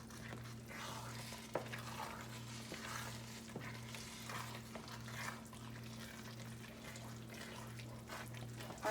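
Peas are stirred into a pan of mushroom and pea risotto, giving soft, steady sizzling and wet scraping with a few light knocks, faint beneath a constant low electrical hum.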